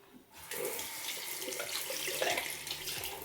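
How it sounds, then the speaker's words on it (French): A bathroom tap runs steadily as a washcloth is wet under it, a continuous close splashing stream that begins abruptly after a brief quiet moment. "Je vais commencer par mouiller mon gant de toilette."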